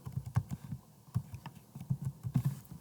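Typing on a computer keyboard: close, irregular clicks in quick bursts, heard alone without talk.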